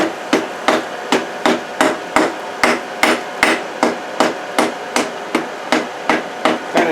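A hammer taps twisted steel cable on a forge, readying it for a Damascus forge weld: about eighteen sharp, evenly paced metallic strikes ring out close and loud, with no talk.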